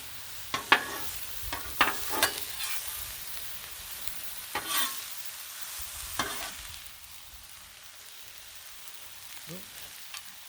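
Mushrooms sizzle on a flat griddle during cheese steak cooking, a soft steady frying hiss broken by several sharp scrapes and clatters of a spatula early on, then fading quieter.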